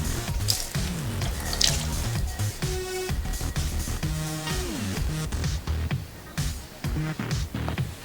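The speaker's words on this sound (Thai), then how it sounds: "ก็จะมาล้างอ่างล้างหน้าแบบนี้ จะทำการใช้แปรงขัด" A bathroom washbasin is washed and scrubbed with a soft brush while tap water runs and splashes into the sink, with squeaky scrubbing strokes and drips close by.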